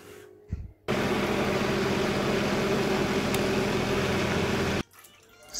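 A blender runs steadily for about four seconds, whirring loudly as it purees celery, carrots and apple in a kitchen, starting and stopping abruptly.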